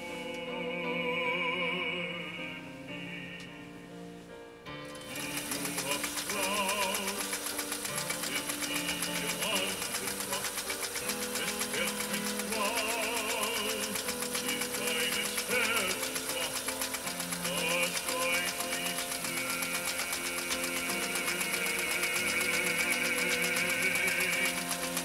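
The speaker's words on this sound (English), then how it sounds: "I would call that kind of a modified shell type stitch pattern" Restored Pfaff 339 sewing machine stitching a modified shell-type pattern, running steadily with a fast rhythmic mechanical chatter after a quiet start of about five seconds, loud and close throughout.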